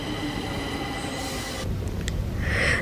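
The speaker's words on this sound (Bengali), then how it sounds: "তো আমার মেট্রো হইছে আইসে" A Stockholm metro train pulls into a station, a loud rumbling roll of wheels on rails with rising metallic squeal toward the end, no talking.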